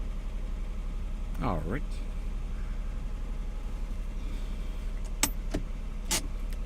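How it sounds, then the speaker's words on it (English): A cold 1992 Acura NSX engine idles high at around 1400 rpm with a steady, even hum. A few sharp clicks and a brief spoken word sit on top of it. "The engine is cold, so typically the idle does seem to be a little higher when it runs cold."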